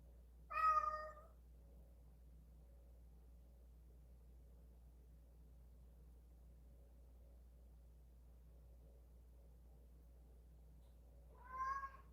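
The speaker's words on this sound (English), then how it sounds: "You can stop meowing." A cat meows twice, one clear call near the start and another near the end, separated by long quiet stretches with faint background hum.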